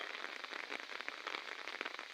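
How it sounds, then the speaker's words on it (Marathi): Light, steady rain falls on a rural hillside road between Palgad villages, a soft continuous patter with scattered drop taps and no voices. "सकाळपासून पाऊस सुरू झाला"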